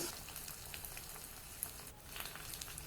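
Steady crackling sizzle of onion frying in hot oil as a tempering for Tamil spinach kootu, continuous and close, with scattered pops and no voices.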